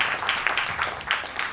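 Audience applause at an investiture ceremony, a continuous patter of many hands clapping with a few sharper claps, steady and moderately loud throughout.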